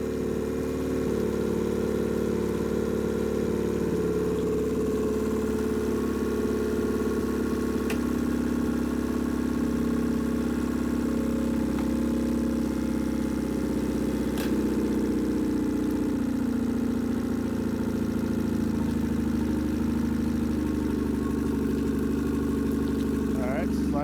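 A Nissan 15 hp outboard motor idles steadily through the whole stretch, a loud, even mid-pitched engine drone with a constant rhythm, occasionally joined by faint clicks and handling noises.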